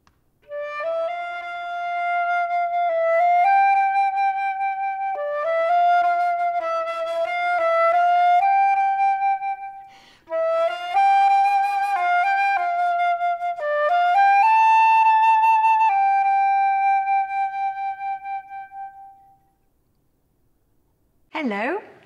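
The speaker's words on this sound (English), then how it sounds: "I play the flute, which sounds like this." Solo flute plays a clear melodic line of sustained and stepping notes, close and bright, in two phrases with a short pause, then fades into a brief closing breath.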